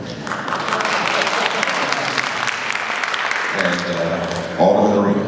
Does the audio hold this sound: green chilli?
no